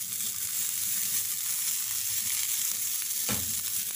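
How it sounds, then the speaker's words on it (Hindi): Gola kebabs fry in oil in a frying pan, giving a steady, close sizzling hiss throughout with a brief louder scrape or stir near the end. "ये देखें, सारे कबाब हो गए हैं फ्राई।"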